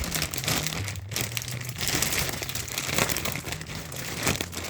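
A plastic space saver compression bag crinkles steadily as it is folded, a dense close rustle that runs continuously under a faint low hum.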